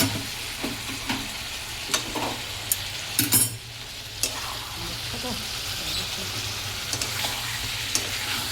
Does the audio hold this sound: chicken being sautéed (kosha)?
yes